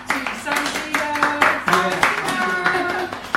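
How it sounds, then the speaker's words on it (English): A small group claps in applause for an awards finalist company during a live stream, steady overlapping hand claps lasting throughout at moderate loudness, with a voice audible in the mix. "I do want to give a big clap to"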